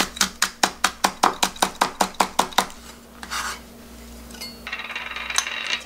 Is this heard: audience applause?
no